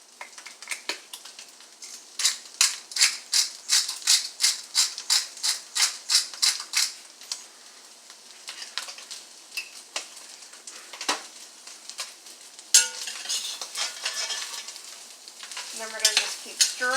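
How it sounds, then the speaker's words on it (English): Onions sweating in a Dutch oven while being stirred, a rhythmic series of scraping strokes of the spoon against the pot over a soft sizzle, followed by clinks and rattles near the end. "And then we're going to just keep stirring it."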